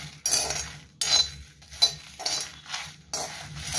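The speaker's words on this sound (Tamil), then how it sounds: "மிளகா, தனியா, மிளகு, சீரகம் நல்லா போட்டு ட்ரை ரோஸ்ட் பண்ணிக்கிறோம்" Dried chillies, coriander seeds, black pepper and cumin dry-roast in a pan. A spatula scrapes and clinks against the metal in about six sharp, rhythmic strokes, close and clear, with no talk.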